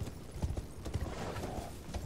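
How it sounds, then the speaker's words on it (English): Horse hooves clip-clop at a gallop in the Elden Ring video game, a quick, steady rhythm of close, clear footfalls that runs through the whole stretch with no talk. "Hop on your horse, and out you go"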